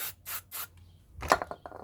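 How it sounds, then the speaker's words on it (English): Silicone spray applied to a rear axle suspension bushing on a Toyota: three short, sharp hissing bursts in quick succession, then softer rubbing and scraping as the part is handled, close by. "I put a bit of silicone spray"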